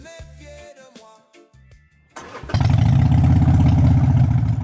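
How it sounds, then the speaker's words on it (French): Quieter tonal sounds give way to an engine starting up, then an old Harvey 100 motorcycle settles into a loud, steady, throbbing idle close by. "J'aime entendre le moteur de cette vieille Harvey 100 ronronner"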